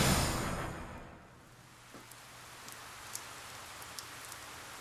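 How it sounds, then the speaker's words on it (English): Rain in the video game 428 Shibuya Scramble, a soft steady patter that fades from a louder wash into faint drizzle with a few scattered drop taps. "The rain won't let up."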